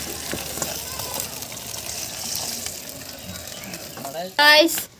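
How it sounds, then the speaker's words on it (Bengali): Fish fries in oil at an outdoor New Year picnic, making a steady moderate sizzle throughout, with a brief louder clatter near the end. "মাছ ভাজা।"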